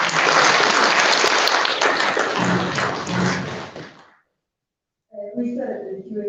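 Applause honouring teachers at a World Teachers' Day event fills a large space, loud and dense for about four seconds before fading to silence, after which a voice speaks.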